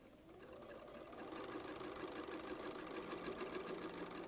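A sewing machine runs steadily and faintly, stitching a quarter-inch seam on a quilt, its quiet mechanical whir continuous with no talk.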